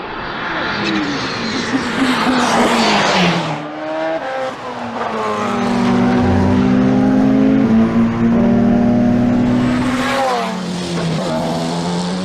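The deregulated Porsche 919 Hybrid Evo race car, with 1200 horsepower at full boost, roars loud and close as it accelerates through its gears with rising and falling pitch, and a voice talks partly over the engine.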